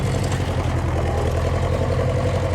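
A farm tractor pulling a manure spreader with dual wheels runs steadily while shifting gears, a loud continuous low engine rumble with some clatter and no clear break.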